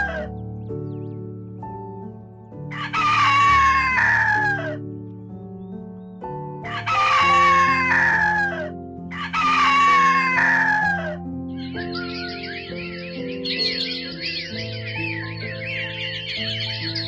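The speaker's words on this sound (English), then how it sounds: "It's a chicken." A rooster crows loudly three times in long drawn-out calls, followed by a chicken's rapid clucking, all over a soft music bed.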